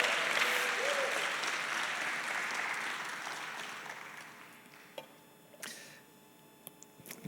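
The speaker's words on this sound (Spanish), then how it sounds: "dale palmas al Señor" A church congregation claps together in a loud, dense burst of applause that gradually thins and fades out, followed by a few scattered, isolated sounds.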